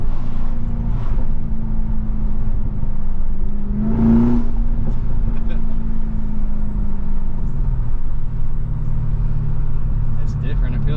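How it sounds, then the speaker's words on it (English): A car engine downshifts on the road, a steady engine drone with a brief surge in revs near the middle, heard from inside the car over road noise. "listen to the downshifts"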